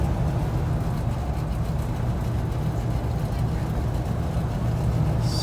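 A 1966 Chevrolet C10 pickup engine hums steadily from inside the cab while driving, a continuous low drone with road noise, no one talking over it.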